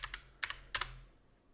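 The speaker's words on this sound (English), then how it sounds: "I'll just simply type in Telnet and the IP address." Quiet clicks on a computer keyboard while a Telnet command is entered on a PC to reach a Cisco network device, in three short bursts of two keystrokes each, close and faint.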